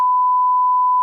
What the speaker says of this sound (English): Man, that's a beep right there.